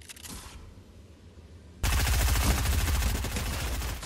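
Gunfire in the Fortnite video game sounds as one quieter shot, a pause, then a loud burst of rapid automatic fire that continues to the end with no voice over it.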